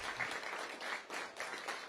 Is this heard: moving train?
no